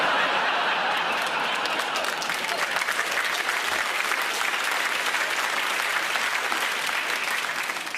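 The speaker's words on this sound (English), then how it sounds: "It's the first time anywhere in the world people are clapping for corruption." A comedy audience claps loudly and continuously, a thick roomful of applause mixed with scattered chuckles and laughter that tapers slightly toward the end.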